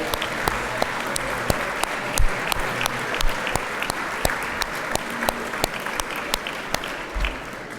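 Audience applause at the close of a public debate, sustained clapping from a sizeable crowd with sharp individual claps standing out over a steady wash, continuing for the whole stretch.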